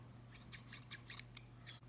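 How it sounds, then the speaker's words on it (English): Vintage steel scissors opened and closed several times in a row, giving faint, crisp metallic snips and scrapes in a loose rhythm against a quiet background. "if we open and close it just a few times"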